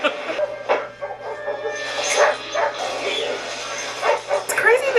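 Dog in a Final Destination movie scene, chained outside during a storm, yips and whimpers in short, repeated high cries over storm noise, with a voice speaking over the scene.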